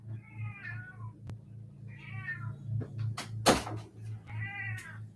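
A cat meows three times in separate drawn-out calls over a low, steady background hum, with a sharp knock or clatter between the second and third meows.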